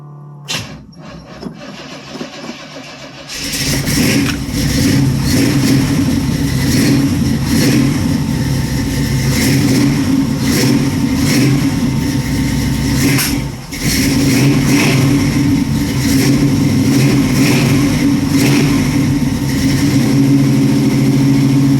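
A Chevy Nova engine, choke not yet fitted, cold-starts after a few seconds of quiet pump whine, then settles into a loud, steady fast idle with a brief dip partway through.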